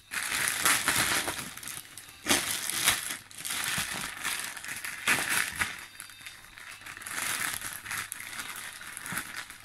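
Plastic film wrapping around a boxed Banpresto Dragon Ball Z Goku Genkidama figure crinkles and crackles steadily as the package is opened, with close, continuous bursts of rustling and no talking.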